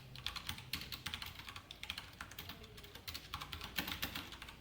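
Rapid keystrokes on a computer keyboard as C code is typed, a steady irregular run of light clicks close to the microphone with no voices.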